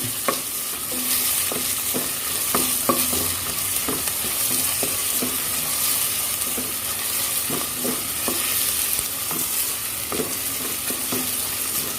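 Ingredients being sautéed in a pan for Buhari rice, a steady close sizzle with repeated spoon or spatula stirring taps spread across the whole stretch, no voices.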